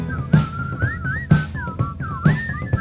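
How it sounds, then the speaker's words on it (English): A whistled melody wavers up and down over a steady beat of thumping percussion, close and fairly loud. "We rode to the beat of our favorite whistling tune."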